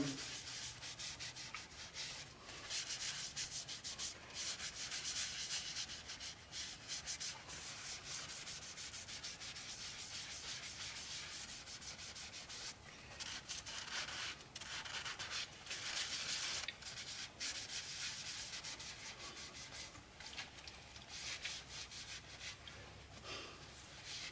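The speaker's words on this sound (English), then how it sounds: "It's not wiping it off, it's basically working it into the grain." Hand rubbing of finish into the grain of a natural-edge honey locust piece with a paper towel, a steady dry scrubbing hiss that continues close and moderately loud throughout, with brief pauses and no talk.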